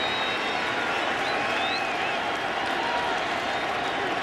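A World Series baseball crowd between the Cardinals and Rangers roars steadily in a packed stadium, a dense, unbroken wash of cheering and applause with faint whistles, while a broadcaster speaks over it.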